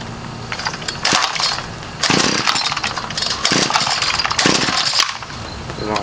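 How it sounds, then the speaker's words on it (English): A small engine is pull-started from cold. There are several separate rasping pulls of the starter cord, each a short burst of noise, with brief sputters between them but no sustained running. "This is going to take more than 1 pull to start."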